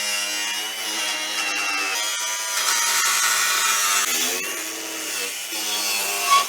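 A power tool saws through the sheet-metal body of a supercharged V8 box truck, opening a hole for a radiator; the steady, loud, bright rasping cut runs without a break, rising slightly near the end.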